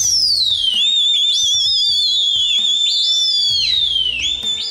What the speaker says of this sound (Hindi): सीटियां और खास आवाज के जरिए मालिक अपने कबूतरों से आसमान पर राब्ता रखता है।